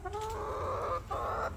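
Hens cluck and squawk close by in two drawn-out, nasal bursts with a brief pause between them.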